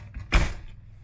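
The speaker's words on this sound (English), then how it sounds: "So now we'll close the door." The entry door of a Grand Design 397TH toy hauler RV, fitted with a combination lock, shuts with a single solid thud and latch, heard close with a short rumble after it.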